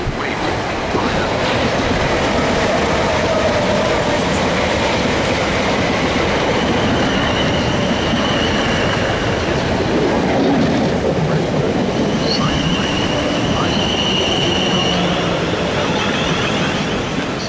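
Trains pass through Queenstown Road station in Battersea, London, with a steady, loud roar of wheels on rails throughout, faint clicking and occasional high squeals from the wheels.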